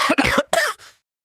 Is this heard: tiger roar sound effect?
no